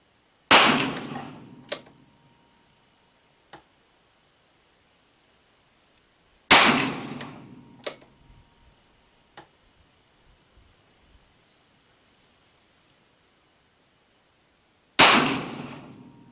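.38 wadcutter rounds are fired from a pistol held in a Ransom rest. Three loud, sharp shots come several seconds apart, each followed by a ringing metallic clang and a decaying echo, with quiet gaps between.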